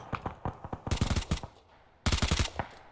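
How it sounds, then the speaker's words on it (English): Rapid automatic gunfire in the ArmA 3 combat game, two sharp bursts of closely spaced shots separated by a short pause, with scattered single shots before, fairly loud and nearby. "Don't you hear shooting back?"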